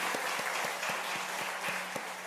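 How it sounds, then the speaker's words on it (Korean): A church congregation applauds the Wednesday praise team, a steady, moderately distant wash of clapping with a few sharper, evenly spaced claps standing out. "우리 수요 찬양단을 위해서 한번 박수 한번 하겠습니다"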